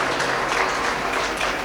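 Audience applause after a stage play in an auditorium, a dense, steady patter of many hands clapping close by for the whole short stretch.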